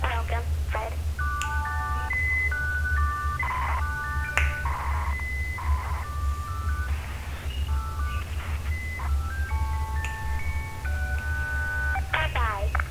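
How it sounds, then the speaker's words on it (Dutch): Dial tones from an old-fashioned telephone in Watch Dogs 2 come in quick runs of short, clear beeps with brief pauses between them, over a constant low hum. "Hij gaat bellen met de ouderwetse telefoon."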